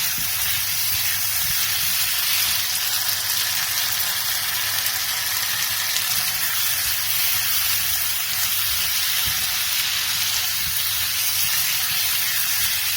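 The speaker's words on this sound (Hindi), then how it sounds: "अब हम इसकी अच्छे से भुनाई करेंगे और इसके साथ ही हम इसमें कुछ मसाला जात शामिल कर देंगे" Arvi (colocasia) curry masala roasting in a pan with tomatoes, giving a steady, loud, even sizzle and hiss that carries through unbroken, with no talking over it.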